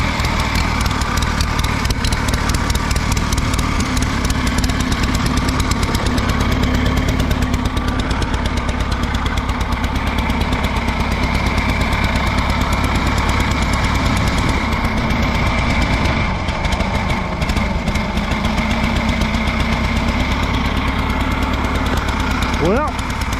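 An Allis Chalmers G tractor engine runs in snow, a steady, close, throbbing drone with a knocking pulse that holds at a constant level throughout.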